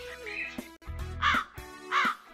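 Rebellious crows in an interactive Wizard of Oz children's cartoon caw in three harsh, loud calls spaced about half a second apart, standing alone without narration.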